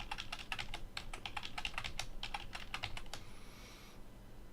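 Computer keyboard keys tapped in a quick, irregular string as a password is entered, crisp clicks at a fairly low level that stop after about three seconds, followed by faint room hiss.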